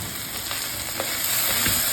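Potatoes sizzle and fry in hot spiced oil with green chilli, ginger, garlic and onion in a pan for a potato masala curry, a steady loud hiss with faint stirring scrapes throughout and no voices.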